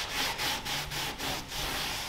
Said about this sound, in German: mit dem Lappen kannst du schön einmassieren